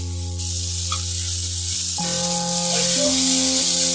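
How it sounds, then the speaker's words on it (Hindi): Tomatoes dropped into hot oil in a pan for chicken karahi hiss into a steady, bright sizzle that holds throughout, with a tonal musical bed running underneath. "मैंने इसमें थोड़ा सा तेल डाला है और ये टमाटर को मैं इसमें डाल रही हूँ"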